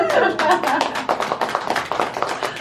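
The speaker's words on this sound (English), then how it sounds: "we'll clap on that." Audience applause with dense overlapping hand claps, loud and close, thinning slightly toward the end, with some voices mixed in.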